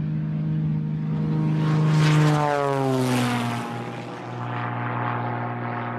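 A propeller airplane in flight passes overhead, its droning engine rising to a loud peak mid-pass with a falling pitch sweep, then easing away into a steady distant hum, no voices.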